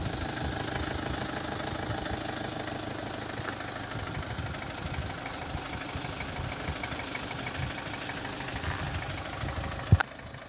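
An Iseki 467 farm tractor diesel engine idles steadily and smoothly, a continuous close rumble with a faint knocking rhythm and a sharp clank near the end.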